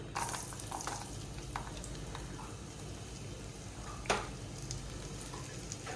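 Chopped garlic frying in melted butter in a pan, a steady close sizzle and crackle with a few stirring clicks and one louder spatter midway.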